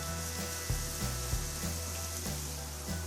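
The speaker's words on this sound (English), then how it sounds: "Listen to that steak sizzle on the grill." Steady hissing sizzle of steak searing on a hot grill, with occasional low knocks and scrapes over the constant crackle.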